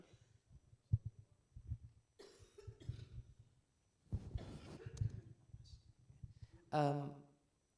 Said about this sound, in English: I think I'll cough all the way